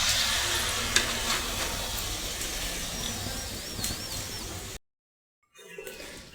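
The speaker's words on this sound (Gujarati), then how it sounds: "આપણે આ રીતે પૂરીને તળવા મૂકીશું." Puris fry in hot oil with a steady, close, bubbling sizzle that has a few sharper pops, then cut off into silence before a fainter sizzle returns.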